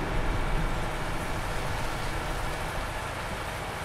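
Steady rain falls in Farming Simulator 19 on a farm field, a constant broadband hiss with a low rumble. It holds at an even, moderate level throughout, with no talking.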